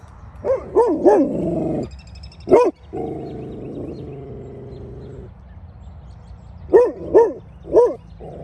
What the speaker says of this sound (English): maybe if we get her to the sign, she'll stop barking every time she sees it in the yard